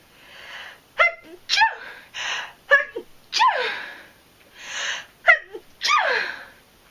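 Several sharp sneezes in a row, each a quick burst followed by a sighing exhale, close and fairly loud with brief pauses between them.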